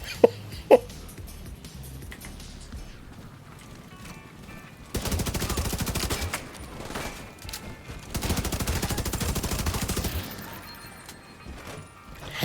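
Rifle fire from a shooter game shown at the Xbox Games Showcase 2023, including an FAL: a couple of sharp isolated shots, a quiet gap, then two long rattling bursts of rapid fire separated by a brief pause.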